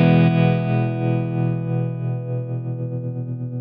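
A single strummed electric guitar chord rings out through a tremolo effect on a Line 6 Helix, its volume pulsing in a steady rhythm that quickens slightly as the chord slowly decays, with no voices.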